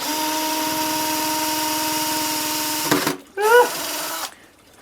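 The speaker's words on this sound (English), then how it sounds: "we're actually drilling extra holes" A power drill whines steadily as it bores holes through a bonsai pot, then briefly stops, revs once more with a rising pitch, and winds down.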